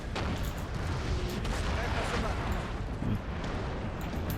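Artillery booms in a Napoleon: Total War battle, a dense, continuous rumble of cannon fire and distant impacts, with a voice talking over the din.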